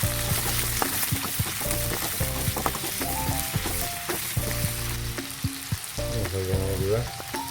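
Meat goes into a pan of frying onions, and a loud, continuous close sizzle follows, with stirring scrapes and clinks of a utensil against the pan throughout.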